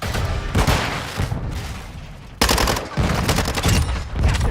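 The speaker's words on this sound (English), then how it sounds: "Watch where you are shooting!" Gunfire in Call of Duty Warzone, loud close bursts of automatic shots crackling in two main volleys with brief pauses, thumping booms underneath.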